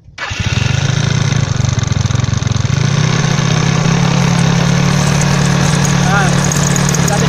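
Automatic scooter engine with a squeaking noise from the rear drive, traced to a worn fan belt or rollers, heard as a close steady idle hum with a faint high squeal layered on top after starting.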